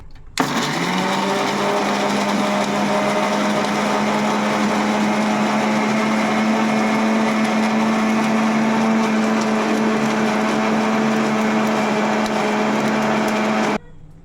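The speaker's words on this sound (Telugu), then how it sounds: "ఇప్పుడు మిక్సీ పట్టేసుకుందాం." An electric mixer grinder runs steadily for about thirteen seconds, grinding coriander seeds, cumin and white sesame seeds with a little water. Its loud, even motor whine starts and stops abruptly, with no talking over it.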